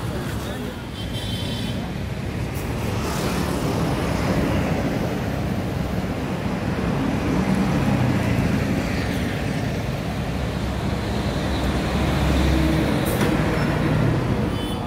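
Engine drone and rolling noise of a G3/G4 city bus travelling in Bangalore between MG Road and St John's Hospital. A steady, loud rumble fills the whole stretch with road noise throughout, while speech is heard over it.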